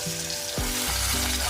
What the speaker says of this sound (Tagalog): Iprito lang muna natin saglit yung ating spare ribs bago natin ilaga